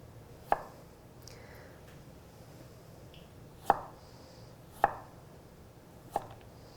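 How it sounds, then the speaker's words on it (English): A santoku knife julienning carrots on a cutting board, four crisp separate chops spaced irregularly against a quiet room. "To julienne, I've chosen a santoku"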